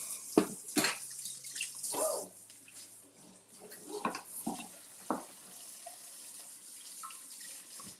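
Tap water runs over hands at a kitchen sink during salmon cake prep, a steady splashing stream broken by several sharp clatters and knocks, with no talk.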